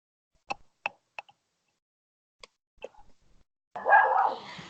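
A pet dog barks several times in the background of a home video call: a handful of sharp, fairly distant barks spaced over a few seconds, followed by a person speaking briefly.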